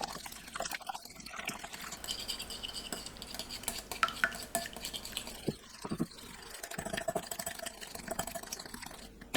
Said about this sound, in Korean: 흰자와 노른자를 각각 풀어주세요.